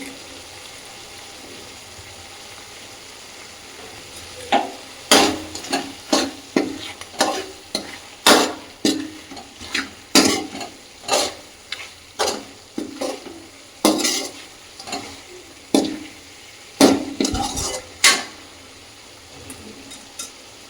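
Chicken sambar masala is stirred and fried in a pan, with a string of rhythmic scraping strokes over a low sizzle and occasional clinks of a utensil against the pan.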